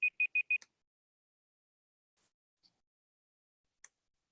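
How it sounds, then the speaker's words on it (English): Timer on a computer during an online coding class gives four quick, evenly spaced electronic beeps, followed by a few faint isolated clicks in near silence. "there's the timer"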